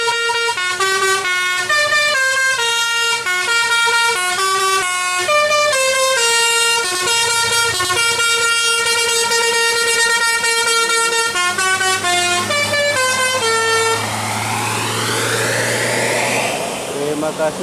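Loud, musical bus horn playing a rapid sequence of melodic tones with sustained notes, ending in a rising, sweeping siren-like glide, with voices talking underneath.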